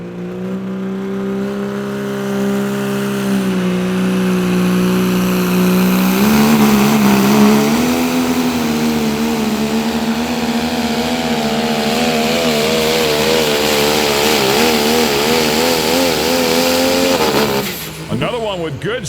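Diesel pulling trucks in the Limited Pro and Pro Stock classes roar at a truck pull, a loud sustained engine drone with rising revs and a shifting pitch over nearly twenty seconds, ending in a clattering burst as the run stops.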